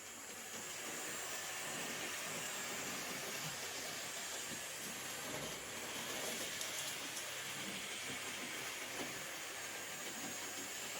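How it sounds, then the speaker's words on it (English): A model train runs steadily along its track, a continuous whirring hiss with faint clicking, close by and fairly quiet, no voices. "Right, you can see it's running now quite successfully."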